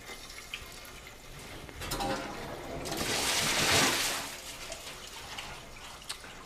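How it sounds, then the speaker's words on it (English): Water rushes out of a sprinkler riser's main drain, building to a loud broadband gush over a few seconds and then easing back to a lighter flow with faint drips. "Our next action is to open the main drains on the riser."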